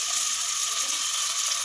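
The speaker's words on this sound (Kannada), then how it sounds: "ಎಣ್ಣೆ ಹಾಕೊಂಡಿದ್ದೀನಿ, ಅದಕ್ಕೆ ಈರುಳ್ಳಿ" Onions frying in oil give a steady, bright sizzle that holds evenly throughout, close and moderately loud with no talking.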